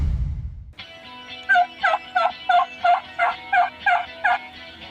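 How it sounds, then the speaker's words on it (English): A Cass Creek electronic game call plays a rapid turkey gobble, a burst of about nine loud, rolling pulses in quick succession after a brief low rumble at the start, with no talking. "I'm demonstrating on a Cass Creek electronic game call."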